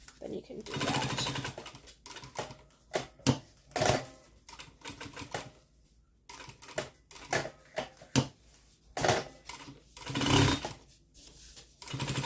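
A sewing machine runs a long basting stitch to hold a slip pocket in place, its motor whirring in short bursts separated by pauses, with sharp mechanical clatter standing out between runs.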